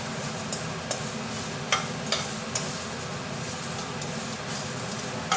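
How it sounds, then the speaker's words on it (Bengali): Dried chilies and spices dry-roast in a dry pan for a Kolkata egg omelette curry, a continuous soft rustle and crackle with occasional scraping stirs, close and steady with no talk. "দেখো তোমরা, আমি শুকনো খোলাতে ভেজে নিচ্ছি।"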